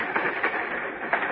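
Rhythmic clickety-clack of a train's wheels used as a radio-drama sound effect, a steady rattling rumble with periodic louder clacks, moderately loud and alone.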